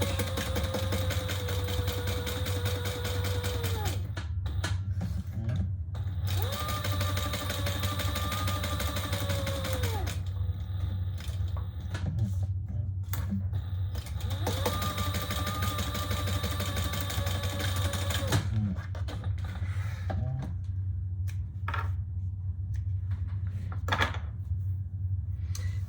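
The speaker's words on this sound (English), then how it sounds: "we're gonna sew around, just baste around the sides and the bottom" Sewing machine basting around the sides and bottom of a heavy cotton wallet lining, a steady mechanical drone running in long stretches with brief pauses between seams.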